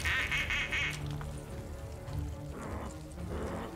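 Ducks quack in the Mob of the Dead 2 video game: a dense burst of quacking at the start, then further scattered quacks over game audio.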